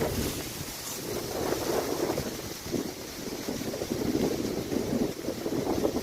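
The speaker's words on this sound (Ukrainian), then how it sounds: "Чуєте шелест листя?" Steady broadband rustling and whooshing, like wind moving through leafy branches, continuous with gusty swells and no voices.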